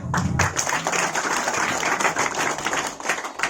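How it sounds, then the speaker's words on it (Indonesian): Scattered applause from a small crowd, a few seconds of dense clapping that stays moderately loud throughout. "Ya, tepuk tangan."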